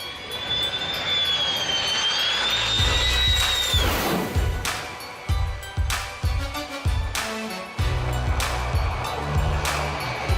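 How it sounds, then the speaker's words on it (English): F-16 fighter jet flying close past plane spotters, a piercing whine that holds, then swoops down as the jet passes, followed by a roaring rumble broken by sharp bursts and crackles. "This is as close as you can get to a flying F-16."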